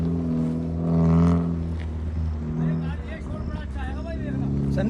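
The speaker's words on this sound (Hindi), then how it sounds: "सलेंसर तो सही बड़ी आवाज आ रहा है।" Car engine drifting and roaring loudly through its silencer, a steady heavy drone with surging revs, heard under loud excited talk from people nearby.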